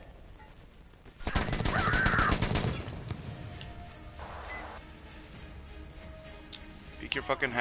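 Gunfire in the video game Metro: Exodus, a loud dense burst of rapid shots lasting over a second, followed by quieter rattling, with someone shouting and swearing over it.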